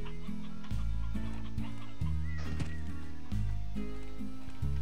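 Several chickens in Slime Rancher cluck repeatedly, short choppy calls arriving in clusters every second or so, close and clear over a low droning game backdrop.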